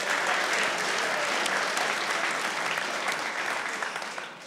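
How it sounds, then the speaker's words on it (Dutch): A Dutch lecture audience gives sustained applause, a dense even wash of many hands clapping that holds steady and then fades out toward the end. "Applaus voor Merel."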